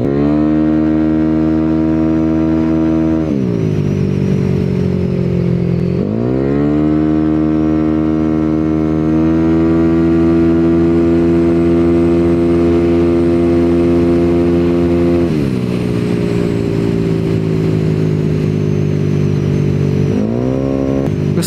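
A Yamaha Aerox 212cc scooter engine drones steadily at high speed, loud and close, with a few brief dips and surges in pitch as the throttle eases and opens again, and no talking.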